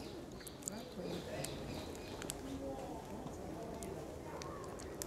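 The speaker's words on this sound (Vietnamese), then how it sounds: "Ở ngay trên vòm lá là chim kêu ríu rít và nghe có vẻ rất là hoang dã" Small birds chirp in the tree canopy beside the path up the hill of Montmartre in Paris, scattered short calls over a steady outdoor crowd hum and passing voices.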